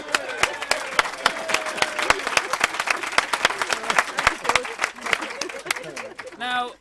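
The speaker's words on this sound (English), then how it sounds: "come on, round of applause" Wedding reception guests clapping during a best man speech, a lively round of applause with sharp individual claps close by, voices and cheers mixed in, tapering off at the end.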